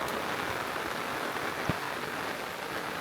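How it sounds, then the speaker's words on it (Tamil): Rain falling steadily on the mountain trail up Sri Pada (Adam's Peak) in Sri Lanka after a landslide, a dense, even hiss with a few sharper drops, heard alone. "மழை வேறு பெய்து கொண்டிருக்குது."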